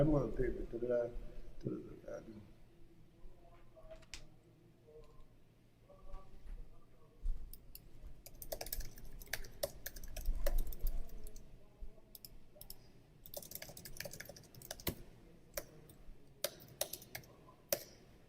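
Keyboard keys clicking in scattered bursts at low level under ongoing talk, sparse at first and then denser toward the end.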